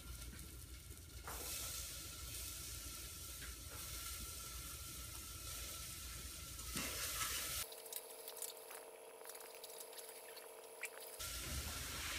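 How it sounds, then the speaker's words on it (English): Chopped peppers hit a hot pan of onions and garlic in oil, setting off a continuous close sizzle with stirring scrapes; near the end a brief steadier tonal noise sits under the frying before the crackle returns. "Let's just put in some peppers too."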